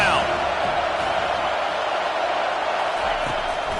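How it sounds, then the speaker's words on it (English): A football stadium crowd roars loudly and steadily behind the defense on third down at a Clemson game, a dense sustained wall of cheering with a commentator talking over it. "Decibels rising as the crowd gets behind this defense on 3rd down"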